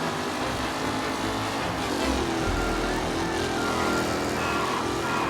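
Race car engine in Mafia Definitive Edition holding a steady, loud drone with a rising rev partway through, continuous and close, no talk.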